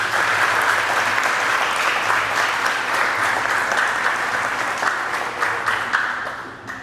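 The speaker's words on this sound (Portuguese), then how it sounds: "Diz amém e dá um aplauso ao Senhor Jesus." A church congregation claps together in sustained, dense applause that holds steady, then thins slightly toward the end.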